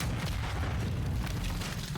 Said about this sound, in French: 3, 2, 1, explosion!